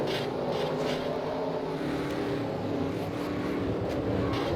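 Onboard race car engine from a racing video game on a Nashville oval, a loud, steady high-revving drone that holds without a break.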